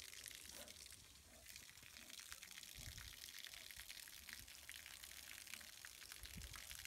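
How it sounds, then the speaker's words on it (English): Water gushing steadily from a tap or hose during outdoor play with two dogs, continuous and fairly close, with brief bursts of a voice and splashing over it. "water coming from, Atticus?"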